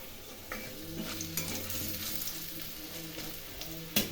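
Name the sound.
frying nigella seeds (black cumin) in mustard oil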